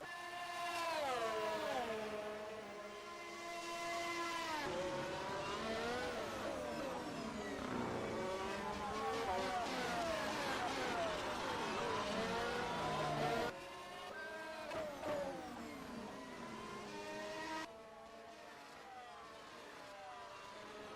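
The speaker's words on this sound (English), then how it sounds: "The sounds of the Formula Sim racing cars, absolutely beautiful as always." Formula Sim racing car engines in a sim racing video game whine and rev with shifting pitch, several cars passing close and loud, continuous throughout with brief changes in intensity.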